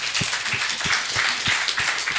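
A studio audience at a French-language TV magazine programme about daycare claps together. The applause is fairly loud, with a steady, slightly rhythmic patter of hand claps and no speech over it.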